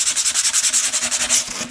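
Sandpaper rubs rhythmically across a subwoofer enclosure panel, taking down small drill humps on the back side in quick, even back-and-forth strokes, close and loud with no voices.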